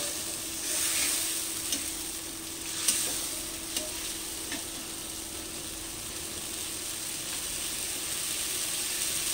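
Spice paste sautéed with green chili and a splash of water in a pan, a soft, steady sizzle with faint occasional stirring clicks, fairly quiet and even throughout.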